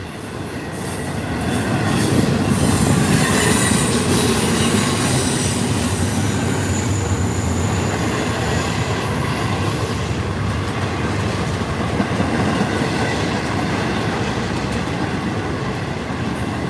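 A train rumbles steadily past on the tracks, close and loud, with broadband wheel noise and faint squeal throughout.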